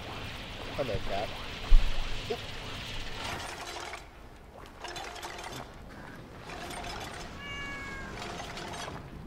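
A cat meows in the Oxygen Not Included video game, a few short mews mixed in with clicking, ratcheting machinery sounds and a busy background hum.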